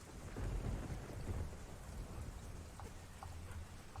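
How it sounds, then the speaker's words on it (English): In the Resident Evil 4 game, a thunderstorm brings steady rain with low rolling thunder that swells and fades, faint and continuous, with a few scattered raindrop ticks and no voices. "I love rainy lightning storms."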